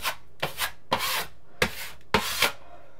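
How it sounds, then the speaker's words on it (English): Screws are tightened by hand with a Phillips screwdriver during a stairwell storage renovation, heard as five short, close scraping and grinding bursts separated by brief pauses. "While I'm here, I'll hit all these screws."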